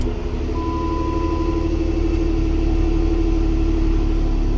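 A 2015 Jeep Wrangler 3.6L V6 with a camshaft position sensor fault runs at a steady, loud idle, a deep even rumble heard up close with a faint whine riding over it.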